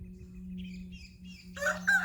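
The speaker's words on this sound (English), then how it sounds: "that rooster is loud" A rooster crowing somewhere outdoors, a short call that rises at the end of the clip over a steady low hum, fairly faint and distant.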